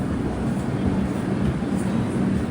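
A passenger train, the Gurudev Express running from Nagercoil to Shalimar, pulls in at platform 3 of a busy station with a steady, loud low rumble throughout and faint crowd voices mixed underneath.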